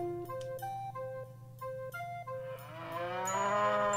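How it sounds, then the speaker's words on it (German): A cow in the video game Blue Dragon moos in a series of short, tonal calls, followed by a rising, swelling moo that grows louder toward the end, with no talk over it. "Und was bist du für eine süße Kuh?"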